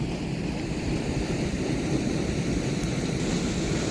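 Lower Falls on Onion Creek at McKinney Falls State Park in Austin, Texas, pours with a steady, dense roar heard close by from the bottom of the falls, continuous and unbroken with no voices.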